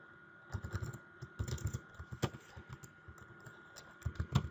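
JavaScript code typed on a computer keyboard at close range, quick bursts of crisp key clicks with short pauses between runs, no talking.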